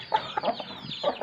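A hen clucking for grain, a few short close clucks in quick succession, fairly soft.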